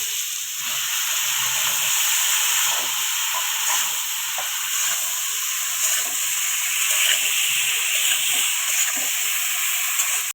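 Ridge gourd with potatoes, salt and turmeric sizzling in a pan, a steady loud hiss of frying that runs unbroken from start to finish with no voices.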